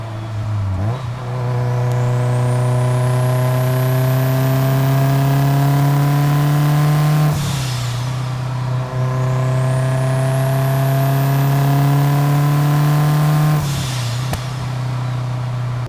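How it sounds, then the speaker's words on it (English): A built Subaru WRX with a T51R ball-bearing turbo revs hard in repeated long pulls, each climb cut off by a sharp blow-off valve whoosh before the engine rises again, loud and close with no talking. "The noises of this car are absolutely incredible."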